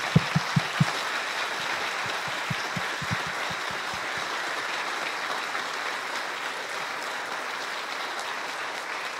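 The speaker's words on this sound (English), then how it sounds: "if you'll join me in giving them a round of applause" An audience at a Convention of States town hall in New Jersey gives a sustained round of applause. Dense, steady clapping fills the space, with a few louder nearby thumps at the start.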